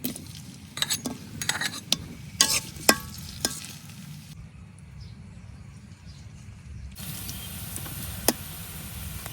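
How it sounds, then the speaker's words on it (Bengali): Chopped onion fries in oil in a pan, a soft sizzle broken by sharp clinks and scrapes of a spoon stirring, with a quieter stretch in the middle before the sizzling returns. "পেঁয়াজটা আমি হালকা ভাজা নিছি"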